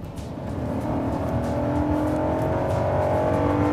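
A Hyundai Equus luxury car accelerates hard, its engine drone building steadily and rising in pitch over several seconds, loud and close with no voices.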